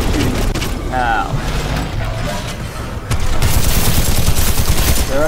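Rapid gunfire bursts and mechanical weapon clatter from the video game Titanfall 2 fill a dense, loud game soundscape, with players talking over it.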